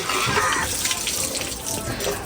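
Fresh water gushes from a hand-pump tube well in a slum, a close, continuous splashing flow without pauses.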